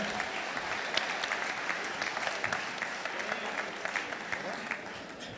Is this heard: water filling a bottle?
no